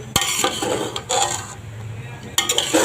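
A metal spatula clinks and scrapes against a pan while chicken fried rice with fried egg is stirred, giving a few sharp close knocks over a steady low kitchen background.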